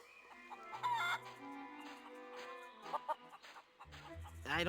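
Clucking chickens from The Curse of Monkey Island adventure game, a series of fowl calls over a game music bed, rising to a louder burst at the end.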